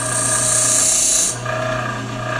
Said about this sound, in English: So don't leave it up against the grinding wheel for more than a few seconds at any time.